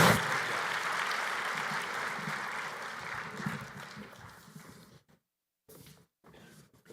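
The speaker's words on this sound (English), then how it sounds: "Another round of applause for our early career profession" Applause from the audience at the AMS 106th Annual Meeting award ceremony begins strong, thins steadily and dies out near the end, leaving brief silent gaps.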